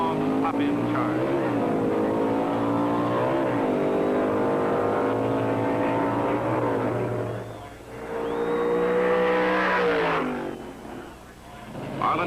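Hemi-powered drag race cars, a Plymouth Hemi Roadrunner and a Mustang, roar down the strip at full throttle, loud engines rising in pitch through gear changes as they storm past, with an announcer talking over the noise.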